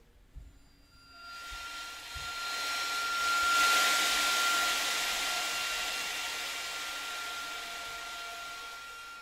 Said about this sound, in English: as an echo chamber to excite the snares through the sound of crotale.